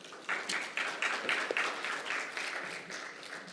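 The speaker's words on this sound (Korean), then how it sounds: "제1주제 발표 및 토론에 참여해 주신 모든 분들께 다시 한번 큰 박수 부탁드리겠습니다" Audience applause at a Korean judicial policy symposium on North Korea-related litigation, a dense steady patter of many hands clapping in a hall for several seconds.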